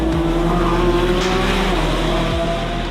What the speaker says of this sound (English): all the gear changes, amazing, with a double clutch transmission, 8-speed